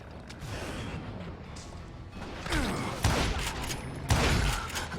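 Gunfire in the Western shooter game Call of Juarez Gunslinger, a swampy level, with a few sharp shots and thuds rising over a low ambient bed of game sound, fairly quiet overall.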